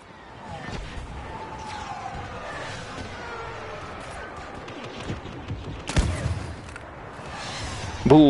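In the Star Wars Battlefront video game, rocket blasts and gunfire keep up a dense battle din. A sharp crash stands out near the end, with faint voices underneath.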